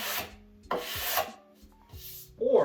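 A brush scrubs leftover wax off a snowboard base in three or four distinct strokes, each a close, dry scratchy rasp separated by brief quiet pauses.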